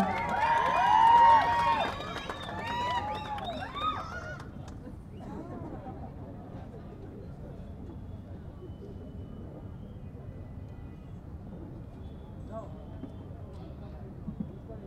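A mall audience at a Kannada film trailer launch cheers and whistles to welcome actor Dhananjay onto the stage. The loud burst of crowd noise in the first few seconds fades into murmuring chatter and voices.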